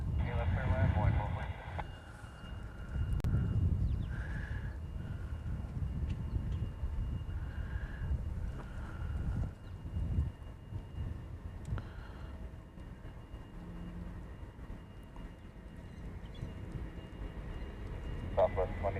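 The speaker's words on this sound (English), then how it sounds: "Southwest service departing heavy Boeing 747." A heavy Boeing 747 jet departing a runway at Honolulu, Hawaii, its engine roar a steady, moderately loud low rumble throughout, with people talking and radio chatter over it.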